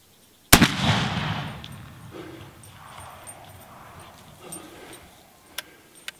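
One sharp, loud rifle shot close by with a short ringing decay at an outdoor range, followed by quiet handling noises and a couple of small clicks while the sights are adjusted.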